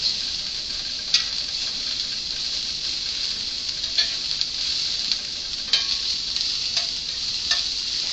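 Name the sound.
onions frying in a pan while stirred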